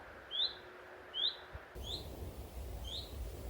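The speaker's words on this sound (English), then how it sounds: "I would like to know what note this bird is singing" A small bird sings short, bright chirps, four evenly spaced calls over a few seconds, clear against a quiet background that turns noisier halfway.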